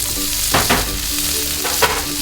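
Chopped bacon frying on a Blackstone 3-burner Pro Series griddle set to medium, a steady close sizzle and crackle with a few louder scraping bursts as it is moved around.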